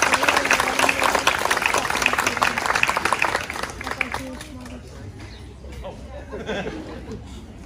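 Audience applauding at a sixth grade graduation ceremony in the US after two students are recognized, loud dense clapping with crowd chatter that fades out midway, leaving murmuring voices.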